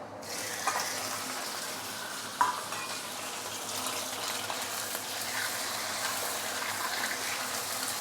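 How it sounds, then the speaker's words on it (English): Pork belly goes into bubbling melted sugar in a hot wok and sizzles hard, a dense, steady hiss of frying that stays loud and continuous throughout. "once you start seeing the sugar started to bubble a little bit, we can actually add in the pork"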